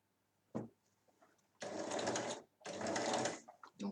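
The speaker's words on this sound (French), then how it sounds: "Puis il faut coudre doucement." Sewing machine stitching fabric slowly for an Easter basket, with a single soft tap followed by two separate bursts of steady mechanical whirring, each lasting about a second, with a quiet pause between them.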